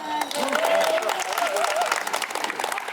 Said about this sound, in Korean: 박수 치고 싶으면 세게 치고 한 번 더 칠까요?